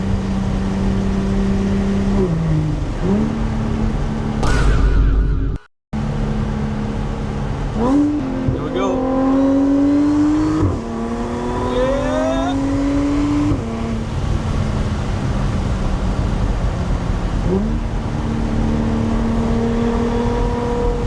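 A modified Audi S4 engine revs repeatedly, pitch climbing and falling through several loud throttle blips with a brief cut, while people talk over it.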